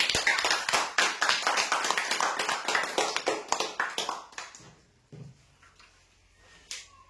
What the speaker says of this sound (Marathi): आणि एकदा जोरदार टाळ्या उद्या आमच्या श्रावणजी भोंडे साहेबांसाठी